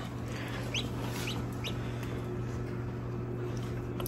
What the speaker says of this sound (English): Houston got his baby Muscovy duck.